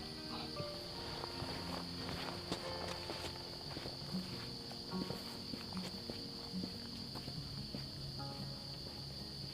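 Footsteps crunch at a walking pace outdoors at night, soft and close, while crickets and insects trill steadily in the background.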